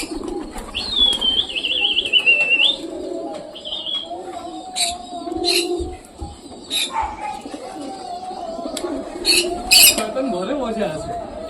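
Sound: pigeons cooing and a young pigeon flying

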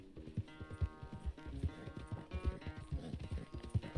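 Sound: horse in video game Red Dead Redemption 2

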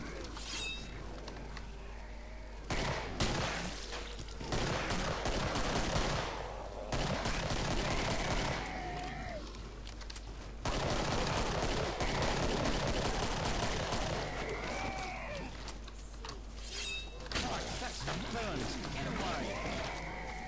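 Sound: pistol gunfire in the video game Killing Floor

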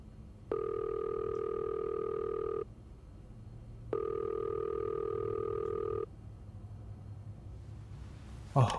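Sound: telephone call ringing unanswered in video game Fifth Floor

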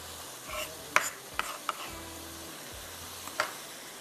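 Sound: stirring and mixing peas, potatoes and spring onions for pulao

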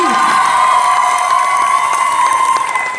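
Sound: audience applause and cheering for a pageant contestant

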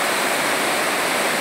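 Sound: water overflowing the Acaraú Mirim dam

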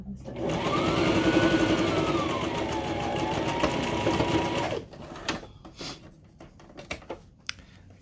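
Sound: sewing machine stitching a seam

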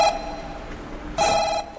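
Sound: telephone ringing with incoming call

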